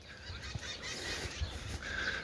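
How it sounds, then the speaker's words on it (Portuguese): A rooster crows faintly in a residential neighborhood where people keep chickens at home. The call is distant and drawn out near the end, over a low steady background murmur. "esse barulho de galo, sim"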